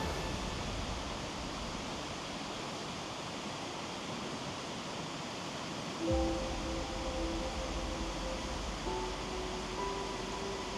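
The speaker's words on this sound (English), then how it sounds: "We go right around behind this waterfall." A waterfall in Iceland gives a steady, loud roar as a waterproof drone flies around behind it; a low rumble joins at six seconds and faint tonal whines run through the second half.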